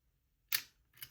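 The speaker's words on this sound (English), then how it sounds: "let's just go ahead and press the shutter now that I've wound it and see what happens." Olympus XA1 camera shutter pressed after winding, heard as a sharp mechanical click followed by a softer second click, close up and isolated in a quiet room.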